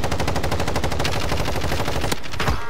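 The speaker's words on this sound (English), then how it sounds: "We're getting shot at." Rapid video game machine gun fire, a fast continuous burst of close loud shots that stops abruptly near the end, no talk.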